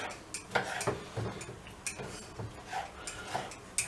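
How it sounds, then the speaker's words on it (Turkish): Knife dicing four peeled medium tomatoes into small cubes, a close series of light irregular taps of the blade on a cutting board, quiet and without talk. "Şu şekilde çok ufak küp küp yapıyoruz."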